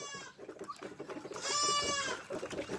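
A goat bleats nearby in a rural yard, a few wavering, nasal calls with one longer cry in the middle, fairly quiet with faint background noise.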